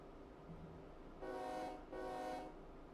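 A freight train in Run 8 Train Simulator starting to pull forward, heard as two sustained horn blasts over a low rumbling engine bed, fairly faint and with no talking.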